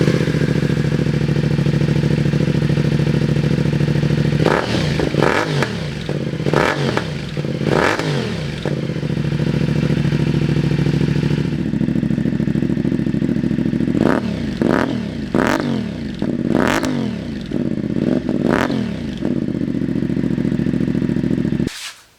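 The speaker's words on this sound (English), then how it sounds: "Baffle comes out. Now let's hear what it sounds like." A CFMOTO IBEX 450 motorcycle with its exhaust baffle removed idles with a loud, raw drone and is blipped in two clusters of sharp revs, each one climbing quickly and dropping back to idle.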